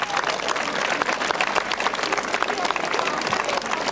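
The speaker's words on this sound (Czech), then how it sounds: "Dámy a pánové, zatleskejte všem maskám, prosím, kteří nesvítí v dne." An outdoor audience at a fairy-tale forest event applauds costumed performers in masks, steady dense clapping from a large crowd for a few seconds.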